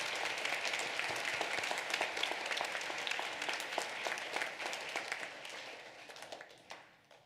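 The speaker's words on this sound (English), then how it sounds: "Let's give them a big round of applause" Applause from the audience at an elementary school awards ceremony, a steady wash of many hands clapping that stays fairly faint and fades out toward the end.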